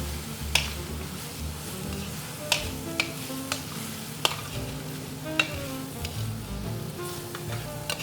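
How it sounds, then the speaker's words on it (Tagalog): Tofu and alamang gisado (sautéed shrimp paste) sizzle in oil, a steady close frying hiss with the stirring spoon clicking against the pan at irregular intervals. "Ayan, so igigisa mo lang yan."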